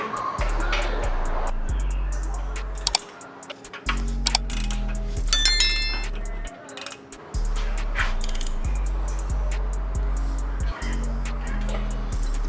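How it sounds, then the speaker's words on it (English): A ratchet backs out torque converter bolts on a BMW F30 335i with a blown engine, in close, rapid, rhythmic clicking runs separated by brief pauses and some metallic clinks, with someone talking in between. "take out these torque converter bolts and then take out that last trans bolt"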